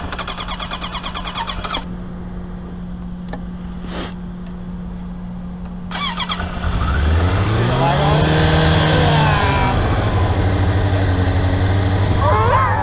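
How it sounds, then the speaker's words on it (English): A car engine idles, then revs hard as the tires spin in a burnout, the roar rising and holding loud and close, with people talking over it. "I can do a burnout"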